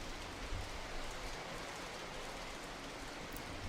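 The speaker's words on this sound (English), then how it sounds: "you can see the rain still falling down at Shanghai" Steady wet hiss of rain falling at the Shanghai circuit during a Chinese Grand Prix in GP4 Manager 2007, a constant even wash with no talk.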